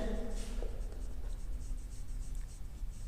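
Pen or chalk writes out math working in a quiet classroom-style setting, with soft, faint scratching strokes under a low steady background hum and a brief murmur of voice at the start.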